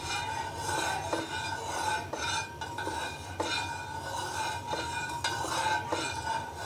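Warm milk stirred in a metal pot on the stove for homemade mozzarella, a steady scraping swirl with repeated clinks of the spoon against the pot, close and continuous with no talking.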